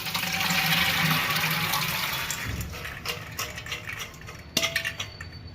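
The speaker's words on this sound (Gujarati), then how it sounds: "ધોયેલું પાણી કાઢી નાખવાનું" Wash water drains off pigeon peas that were soaked for ten hours, starting as a rushing pour that fades out, followed by a few sharp clinks of a pot or utensil near the end.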